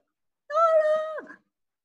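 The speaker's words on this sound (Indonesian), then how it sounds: "Ternyata ada seekor kucing yang besar sekali." A single clear cat meow in a children's Sunday school story, a drawn-out mid-pitched call lasting under a second, close and alone with no talk.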